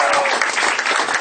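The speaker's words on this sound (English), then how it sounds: "Mark, you guys, round of applause" Comedy roast audience gives a loud, dense round of applause for Mark, short and continuous from start to finish.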